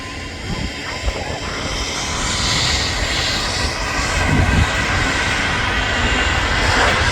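Jet airliner at Manchester Airport in August, runway 05L/23L, a loud rising roar of engines that builds and sustains through the whole stretch, with people talking faintly over it.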